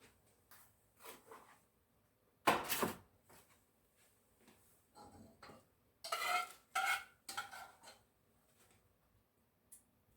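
Candied yams scraped and spooned into a baking pan, a handful of soft clanks and scrapes of a utensil against the dish in short bursts with quiet pauses between.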